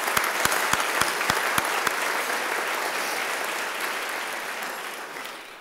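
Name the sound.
applause for the event sponsors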